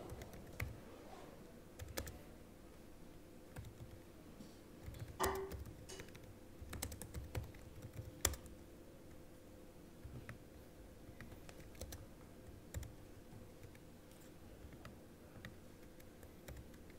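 Someone types on a computer keyboard in a quiet room, producing irregular bursts of soft keystroke clicks with short pauses and an occasional sharper tap. The sound is faint and close, with no talking.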